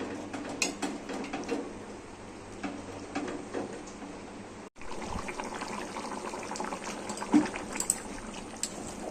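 Rohu fish simmering in a poppy-seed and potato curry gives a steady bubbling, boiling wash with occasional clinks from a pan, broken by a brief pause midway before the simmer resumes.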